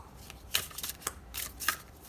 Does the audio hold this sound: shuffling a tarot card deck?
yes